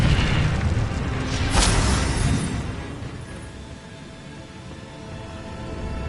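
A magical Incendio fire spell cast in Hogwarts Legacy lands as a single whooshing burst with a sharp crackle, then fades into a low rumbling tail.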